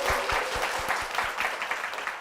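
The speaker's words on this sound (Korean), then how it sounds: "우리 박수 한번 모시겠습니다." A church congregation in Korea welcomes a deacon with a round of applause, steady, even clapping filling the hall at close range for a couple of seconds.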